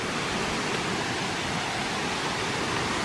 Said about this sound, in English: Now here we come up on the biggest waterfall in the park.